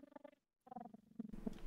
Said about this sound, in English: Why did I hear a cat purr?